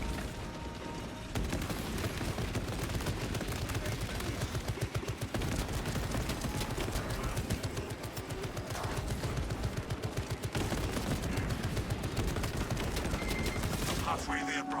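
Automated turrets fire in the Space Marine video game, a dense, continuous rattle of rapid gunfire and combat noise lasting throughout, loud and unbroken, with someone speaking over it.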